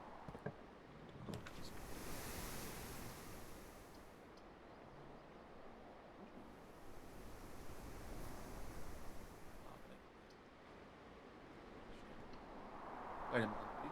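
Gentle water waves lap and wash in the video game Blue Prince, a soft, faint, steady rolling hiss that swells and recedes, with a player speaking over it now and then.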